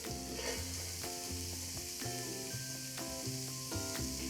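Cauliflower rice stir fries in a skillet, a steady close sizzle broken by regular scraping stirs about once a second.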